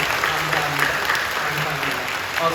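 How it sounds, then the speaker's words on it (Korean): A church congregation at a Sunday service applauds two newcomers with steady, moderately loud applause that continues throughout. "성도님들 뜨겁게 박수해 주시면 고맙습니다"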